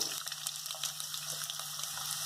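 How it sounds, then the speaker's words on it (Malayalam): Sliced onion and green chillies fry in hot coconut oil in a pan, a steady close sizzle with fine crackles and no talking. "വെളിച്ചെണ്ണ ഒന്ന് ചൂടായതിന് ശേഷം നമ്മൾ എടുത്തു വെച്ചിട്ടുള്ള ഈ സവാളയും പച്ചമുളകും ചേർക്കാം."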